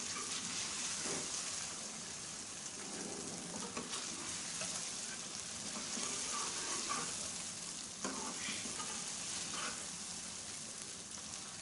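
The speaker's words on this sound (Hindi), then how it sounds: "और आराम से इसको मिक्स करेंगे।" Fish curry sizzles steadily in a pan while being gently stirred, a continuous bright frying hiss with soft scraping strokes throughout, no voices.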